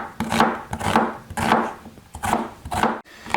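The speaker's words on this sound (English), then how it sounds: "we're going to cut some strips of onion. This is a yellow onion. All I'm doing is I'm just cutting down" A knife slices a yellow onion into strips on a board, six or so rhythmic crunching cuts at an even pace, close and crisp with no voices.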